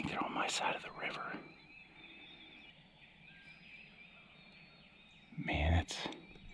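Several wild turkeys, likely young jakes, gobble in the distance across a river during a Missouri spring hunt, with short bursts near the start and again near the end over quiet woods, alongside soft whispering.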